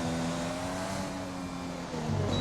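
F1 car engine from the F1 2020 racing game at the Australian Grand Prix practice, a loud steady high-pitched drone with layered tones that rise in pitch near the end as the car accelerates.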